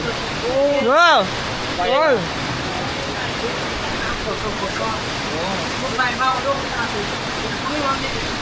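Heavy downpour during a power outage, a dense steady roar of rain filling the scene with a few brief louder sweeping sounds near the start and faint chirps later.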